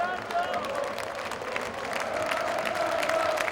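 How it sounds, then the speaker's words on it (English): A football stadium crowd at Chesterfield v Fleetwood Town applauds and cheers in a steady, distant wash of clapping, with a commentator talking over it. "And the supporters again applauding the team."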